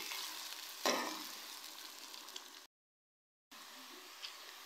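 Two onions fry in oil until golden for a keema biryani, sizzling steadily up close with a sharp stirring clatter near the start and a brief silent gap midway.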